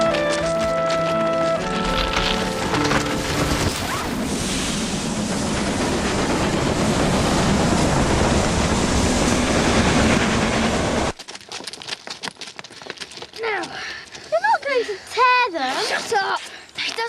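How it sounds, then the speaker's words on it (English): A train rolls along railway tracks with a loud, building rumble and rattle that fills the first eleven seconds, then cuts off abruptly to quieter scattered sounds. "We should wave at the train to stop it."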